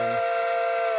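A steam locomotive whistle in the Railroader video game sounds one steady, loud, shrill chord that holds for about a second on its own.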